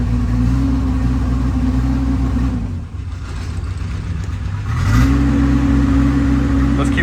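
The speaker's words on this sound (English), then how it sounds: "Let's keep the RPMs up a little bit, clean out that engine." A car engine, with the alternator light on, holds raised revs in a steady mid-pitched drone, dips briefly near the middle, then climbs again and runs loud and even to the end.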